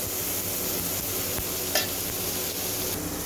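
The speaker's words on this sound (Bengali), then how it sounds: "টমেটোটা ভেজে নিচ্ছে" Tomato frying in a pan for paneer and potato curry, giving a steady, close sizzle with scraping stirs and one brief clatter partway through, no voices.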